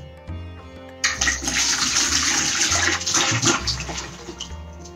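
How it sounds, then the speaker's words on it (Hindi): Water pours steadily into an empty plant container for an indoor big-plant repotting, a full splashing gush that starts abruptly after a second of quiet and runs continuously close by to the end. "इसके अंदर मैं भर रही हूं अब पानी।"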